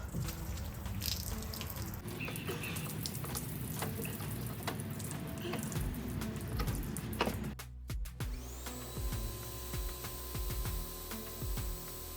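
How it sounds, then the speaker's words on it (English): Water running from a hose or tap to rinse newly developed detailing product residue off a vehicle surface, a steady close splashing hiss with a brief interruption partway, then the flow resumes, no speech. "I'll wash it. Get that residue off."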